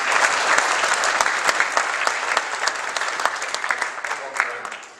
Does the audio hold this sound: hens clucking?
no